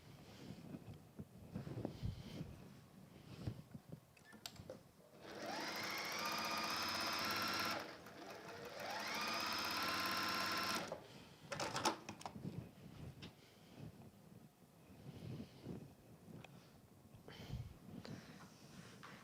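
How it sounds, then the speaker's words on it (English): A sewing machine stitches a seam in brushed cotton, running in two steady, close bursts of a few seconds each, with quieter handling noises before and after. "And then you're just going to sew down there."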